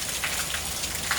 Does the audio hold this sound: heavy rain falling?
yes